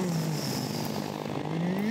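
In the It Takes Two video game, a WWII-style propeller airplane drones steadily nearby, its engine pitch dipping and then rising again over a couple of seconds.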